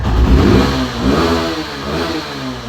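A 2022-model motorbike engine revs hard up close, a rough throbbing roar that swells early, dips, then holds a steady loud drone without speech.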